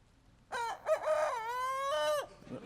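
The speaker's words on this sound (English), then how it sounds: "That was the older rooster." An older rooster crows once, close and loud, a single drawn-out call lasting under two seconds against a quiet background.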